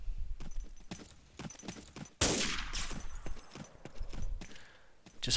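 Gunfire cracks rapidly and repeatedly in a Day of Defeat match on the dod_solitude map, with a louder burst like a grenade blast in the middle and more scattered shots after it.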